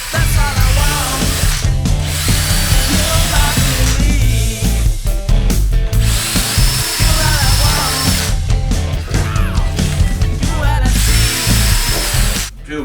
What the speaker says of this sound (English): I'm going to drill holes in the front and the backs of these bits